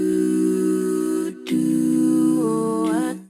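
A vocal music sample plays alone: a sustained, layered sung tone with a brief dropout, then gliding pitch bends before fading out.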